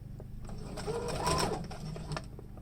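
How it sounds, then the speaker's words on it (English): A sewing machine back stitches a fabric face mask, a quiet mechanical whirring with a short burst of faster stitching in the middle, heard alone at low level. "And then I'm going to back stitch"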